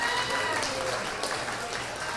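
A crowd claps steadily in sustained applause for a contestant at a live competition, moderately loud and continuous, with a faint voice mixed underneath.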